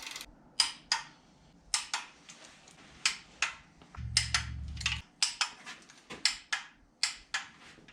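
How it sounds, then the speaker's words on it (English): A torque wrench tightens engine bolts on a block to 18 foot-pounds, giving a series of sharp, close metallic ratcheting clicks in irregular bursts, with a brief low hum midway and no talk. "now we just need to torque them down"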